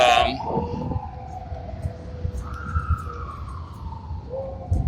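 Fire truck sirens wail in long rising and falling sweeps over a low street rumble, sounding moderately distant and continuing throughout.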